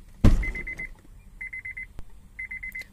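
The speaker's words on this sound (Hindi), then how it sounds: "तो ये बीप बज गई है।" Warning chime of a high-end car sounding when the driver tries to leave with the keys still in the ignition: three short bursts of rapid electronic beeps after a door-handle clunk, moderately loud inside the car.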